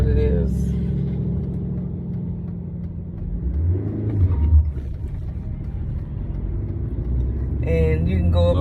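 Manual stick-shift car starting off and accelerating, a low engine rumble that swells and eases, with people talking over it.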